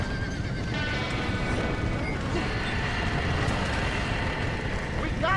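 A horse in the Red Dead Redemption game whinnies clearly amid clip-clopping hooves and a busy game backdrop, with voices speaking over parts of it.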